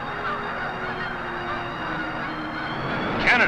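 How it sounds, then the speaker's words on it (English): A large flock of snow geese and blue geese at Swan Lake refuge, a dense, continuous chorus of honking from many birds at a distance, with a few louder calls standing out near the end. "thousands of snow geese and blue geese"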